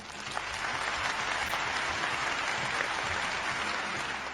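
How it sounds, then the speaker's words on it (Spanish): Steady, moderate applause from a group that stays even and continuous from start to finish, with no voices over it. "¡Un aplauso!"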